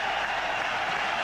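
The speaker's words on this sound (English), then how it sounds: "Tremendous ovation here from the crowd." A cricket crowd at a one-day international gives a sustained roaring ovation for Sachin Tendulkar's century, a dense wash of applause and cheering that holds steady throughout.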